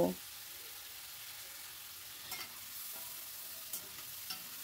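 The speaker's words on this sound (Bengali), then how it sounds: "হালকা করে চিংড়ি মাছটা ভেজে নেব" Marinated prawns fry in hot oil over a high flame, giving a soft, steady sizzling hiss with a few faint clinks of stirring, fairly quiet and continuous, with no talking.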